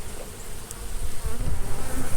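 Honey bees buzz in a dense, steady drone from an opened hive box, heard up close with a fluttering, swelling loudness and no talking.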